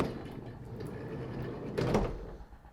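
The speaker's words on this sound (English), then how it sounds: "Side loading door." The side loading door of a 2016 Vauxhall Vivaro Sportive van slides along its track, a brief rolling rumble ending in a soft thud, set against steady background noise.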